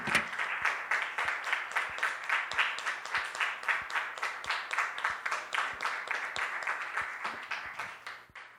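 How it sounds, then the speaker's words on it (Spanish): A church congregation clapping in rhythm, steady evenly spaced beats about twice per second with a low thump on each clap, continuing for over eight seconds. "Vamos a dar un aplauso a nuestro Señor."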